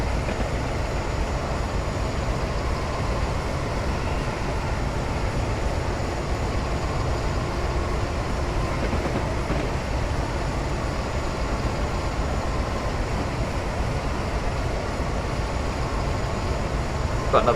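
Driving along the West Coast Main Line over Shap in Train Simulator 2015, a loud, steady roar and rumble fills the locomotive cab, unbroken and without speech.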